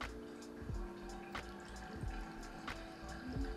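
Water pours into a child's water bottle in a home kitchen, a steady close trickle with a few sharp drip-like plinks and faint clinks at roughly even intervals.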